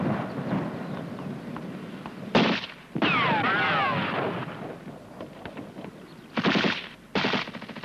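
Bursts of rifle and machine-gun fire crack and rumble across open ground during a Cold War-era British Army infantry section fire-and-manoeuvre drill, with rolling echoes between volleys.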